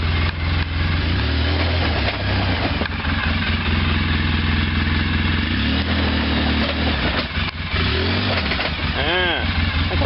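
Polaris Sportsman 700 ATV stuck in a hole, its engine droning loudly and continuously with uneven surges in revs, heard close up while a person talks over it.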